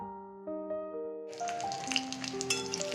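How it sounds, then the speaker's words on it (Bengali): Rohu fish fries in oil in a wok, with a bright crackling sizzle that starts suddenly and keeps going, while steady tones from the earlier part of the clip carry on underneath. "আরও দুটো মাছ আছে সে দুটো ভেজে নিই ভালো করে"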